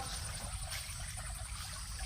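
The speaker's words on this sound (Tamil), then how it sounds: "அப்படியே அருவி மாதிரி தண்ணி போயிட்டுருக்கு" Steady flow of water rushing and splashing continuously in a vegetable garden, like a small cascade, fairly close with no voices.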